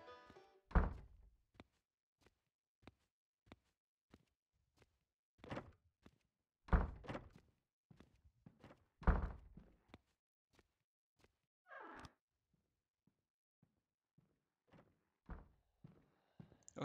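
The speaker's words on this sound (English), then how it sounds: "Oh, you actually can hear him open doors?" Doors opening in a horror video game set in a cannibal's house on hard mode, heard as a string of sharp, hollow thunks and knocks spaced across a quiet stretch, a few louder door bangs standing out, with no talk.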